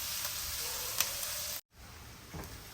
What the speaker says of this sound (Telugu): ఉల్లిపాయలు చక్కగా వేగుతున్నాయి కదా